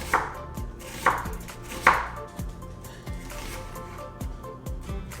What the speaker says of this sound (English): So we're just gonna get this cut up. Just in some nice little rounds.